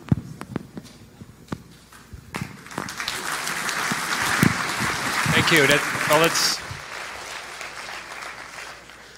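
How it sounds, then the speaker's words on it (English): An audience claps after a Linux kernel conference talk, scattered claps building into a brief burst of applause mid-way before fading, with a voice speaking over it. "Thank you for the clapping already."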